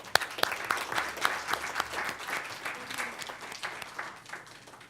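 An audience at a school board meeting applauds steadily, dense clapping holding at an even level throughout.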